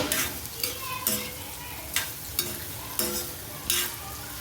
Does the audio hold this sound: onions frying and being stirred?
yes